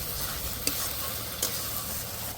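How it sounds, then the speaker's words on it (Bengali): Spice paste for a Bengali desi chicken curry fries in oil with a steady, moderate sizzle, broken by two sharp clicks of a utensil against the pan while it is stirred. "মশলাটা কষতে কষতে দেখুন আস্তে আস্তে তেল ছাড়া শুরু হয়ে গেছে"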